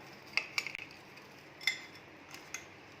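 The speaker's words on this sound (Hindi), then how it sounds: "अब इन्हें फिर से अच्छे से मिक्स कर लेंगे" A spoon taps and scrapes a bowl a few times, sparse and quiet, as papad chaat ingredients are mixed together in an otherwise hushed kitchen.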